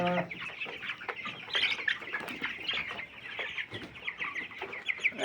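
Chickens cluck steadily throughout, close and fairly loud, with scattered sharper calls and a brief flutter of wings, no talking heard; the birds are 23-day-old poultry being weighed.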